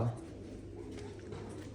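Soft, low cooing from pigeons, steady and faint over a constant low background hum, with no voices.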